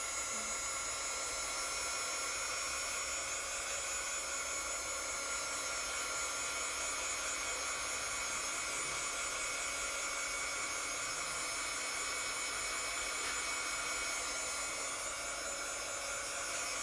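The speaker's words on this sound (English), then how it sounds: "And I'm gonna use my heat gun on it." Heat gun blowing steadily on a paint and glitter canvas, a constant airy hiss with a faint electric hum that runs unbroken and fairly quiet throughout.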